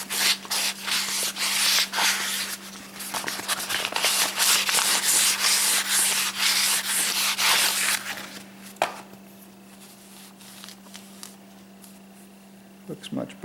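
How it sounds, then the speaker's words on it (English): Fine 1000-grit sandpaper polishing the commutator of a Yamaha 9.9 high-thrust four-stroke outboard starter motor, steady close rasping strokes in a quick rhythm for about eight seconds, then quieter scattered rubs under a constant low hum. "So I'm using some 1000 grit sandpaper and just polishing up this area that the brushes ride on"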